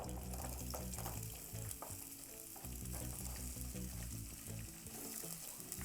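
Red onions frying in butter in a pot for island-style rice and beans, a continuous soft sizzle with stirring scrapes, while music plays steadily in the background.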